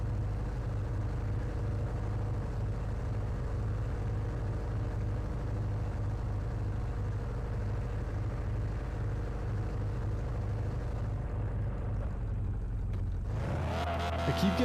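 A car driving in the PC game The Radio Station gives a steady, loud low engine drone that holds throughout, then breaks into a short clattering burst near the end, with no talk.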